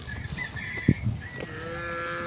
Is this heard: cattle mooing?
yes